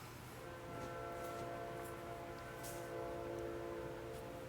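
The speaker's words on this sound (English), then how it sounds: "sounds like a train's coming by" A train passes in the distance, heard faintly as a steady rumble with sustained horn-like tones and no voices.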